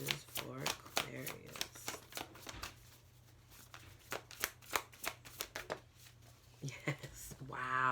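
Oracle card deck being shuffled by hand, a quick run of crisp riffling snaps and flutters that keeps on steadily, close by, with a person's voice speaking now and then over it.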